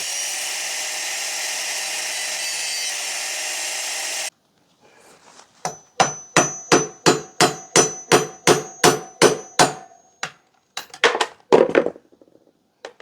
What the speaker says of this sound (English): next thing we need to do is grind off a couple of these rivets